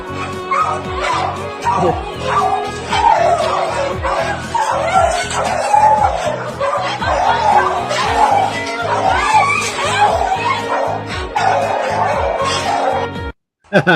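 A dog barks loudly and close by in a fast, steady series of about two dozen barks, with occasional yips mixed in, at a place where a woman has come to adopt a dog.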